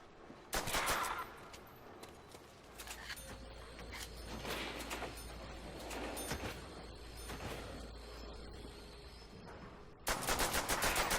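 Automatic weapon fire and bursts of gunshots in Call of Duty: World at War's Nazi Zombies mode on Xbox 360, loud repeated volleys at the start and end with steadier rattling gunfire and game noise between.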